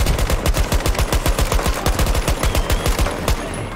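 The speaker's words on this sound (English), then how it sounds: "Shooting all around him, we can't hit him" Rapid automatic gunfire rattles in the video game Breakthrough as a fast, loud, continuous burst of close shots with no talk over it.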